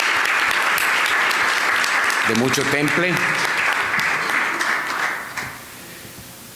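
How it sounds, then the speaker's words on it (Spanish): Applause from an audience at a forum on implementing election observation recommendations, a steady wash of clapping filling the room while a voice speaks over it briefly, then tapering off near the end. "para el cual pido un fuerte aplauso"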